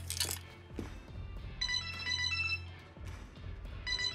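A telephone rings with a repeating electronic ringtone melody, moderately close, its bursts recurring over soft background sound.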